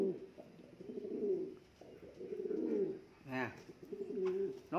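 Repeated throaty cooing from fighting pigeons during a pigeon fight, several rolling coos in bursts close by, with a brief flutter or scuffle partway through.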